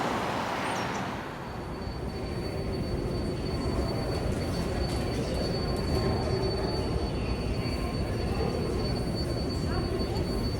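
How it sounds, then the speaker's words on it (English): A New York 7 line subway train rumbles loudly along the track in Flushing, with continuous wheel noise and squealing over the full stretch, and a brief voice is heard near the start. "I take a final trip on the 7 train."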